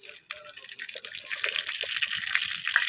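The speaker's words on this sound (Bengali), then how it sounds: "তাই এখানে একটু তেল দিয়ে দিলাম" Oil goes into a hot pan holding dry chillies, whole cumin and bay leaves, giving a close, loud, crackling spatter that builds and stays busy throughout, with no talk.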